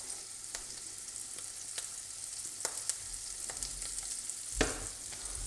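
Scallops fry in a hot pan with a faint, steady sizzle, broken by a few soft clicks and one louder knock of the pan or utensil; no talking.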